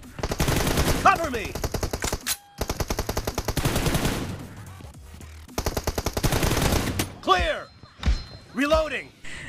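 Close, loud bursts of automatic M416 rifle fire in PUBG arrive in three long rapid-fire strings, followed by someone talking excitedly at the end.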